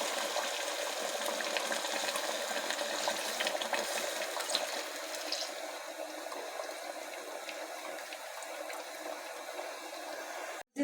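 Beef broth (yakhni) poured into a pot of beef paya cooked in fried masala, a steady hissing liquid pour lasting most of the clip at even loudness, then stopping abruptly at the end. No voices.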